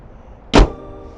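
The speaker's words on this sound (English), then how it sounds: "Let's go ahead and close the hood" The hood of a 2019 Mercedes-AMG GT 63S 4-Door Coupe Edition 1 slams shut in a single loud, close, solid thud, followed by near quiet.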